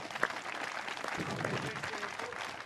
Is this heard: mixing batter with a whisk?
no